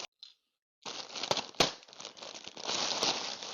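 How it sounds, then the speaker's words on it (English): Crinkly plastic packaging being torn and crumpled up close, a steady rustling rip with a few sharper snaps, after a brief quiet start. "I'll just rip the plastic."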